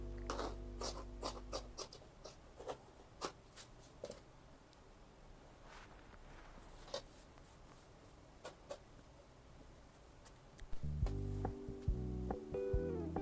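Fabric being cut for a jumpsuit waistband: a string of crisp scratchy scissor snips with short pauses, close and fairly quiet, then a louder rustle and handling at the end.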